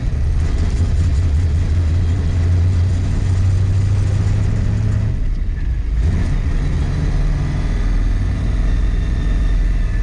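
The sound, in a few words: 1966 Mustang with new 347 stroker engine running rough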